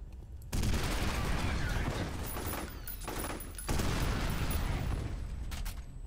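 Missiles launching in the shooter F.E.A.R., arriving as a sudden loud roaring blast after a brief quiet start, then a sustained rushing barrage with a second forceful surge midway, continuous and heavy throughout.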